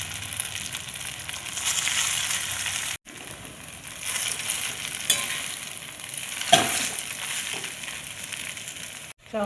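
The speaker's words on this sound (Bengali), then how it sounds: "কড়াইয়ের মধ্যে দিয়ে দিচ্ছি সরষের তেল, এবারে চাউমিনটা দিয়ে দেবো।" Chowmein noodles frying in hot mustard oil in a wok give a steady, loud sizzle throughout, broken by two brief cuts and a few sharper stirring scrapes.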